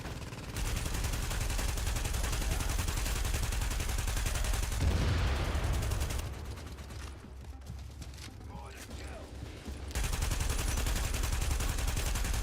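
Rapid automatic gunfire in a shooter game at an enemy, loud and continuous with dense bursts of shots. A brief lull with mechanical clanks comes midway before heavy firing resumes.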